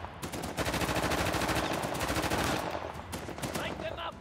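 Sustained automatic gunfire from Uncharted: The Lost Legacy, a loud rapid rattle of shots running nearly continuously through the clip with brief pauses, layered with game effects and a faint voice.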